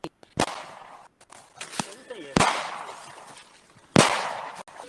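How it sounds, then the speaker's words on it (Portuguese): A military policeman fires three gunshots at a horse in a rural area: loud, sharp cracks with lingering outdoor decay, spaced a second or more apart, with a fainter pop between them. "Um policial militar dá 3 tiros e mesmo assim o animal morre."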